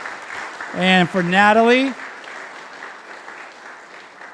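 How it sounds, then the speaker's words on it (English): At a community heroes luncheon, an audience applauds students from Sunburst Academy; someone speaks briefly over the start, then soft, diffuse clapping carries on faintly in the background. "Let's give another round of applause to our students at the Sunburst Academy"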